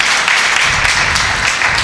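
Guests at a church silver jubilee 25th wedding anniversary celebration clapping together, a brief dense burst of applause from a nearby crowd.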